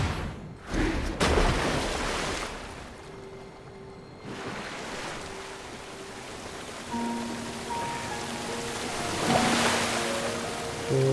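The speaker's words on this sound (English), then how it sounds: "Making a whirlpool?" A whirlpool forming in water in Zelda: Tears of the Kingdom, a broad rushing, churning wash of water that swells and recedes over several seconds, with soft tonal game chimes rising toward the end.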